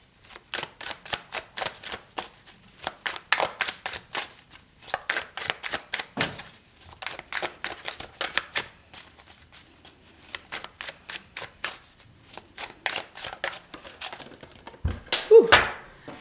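Tarot cards are shuffled up close in rapid riffling bursts of crisp slaps and flicks, pausing now and then before resuming, with a soft thump near the end.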